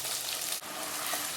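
Chopped tomatoes sauté in a clay pot (manchatti) for a Tamil fish curry, giving a steady, dense sizzle and frying hiss with a faint stir midway, close and without talk.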